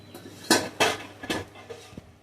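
Mutton curry with potatoes stirred in a pot of gravy, a spoon scraping and knocking against metal in three sharp clattering bursts, then softer clinks as the pot is covered.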